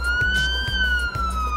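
Ambulance siren in the video game Police Simulator, a loud near wailing tone sliding slowly up and down, with rhythmic low engine thumps beneath.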